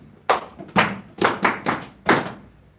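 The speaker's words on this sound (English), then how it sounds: "Roll up applause" Scattered applause at a Shabbath gospel class, five separate heavy claps or thumps spread across a few seconds, each sharp and close, with short quiet gaps between them.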